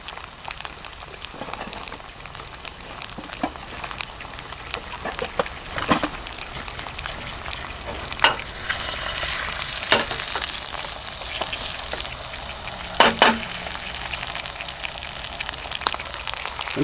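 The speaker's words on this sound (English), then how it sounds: "Sound of eggs frying." Eggs frying in a carbon steel skillet, a steady close sizzle and crackle with scattered sharper pops, continuous throughout with no talking.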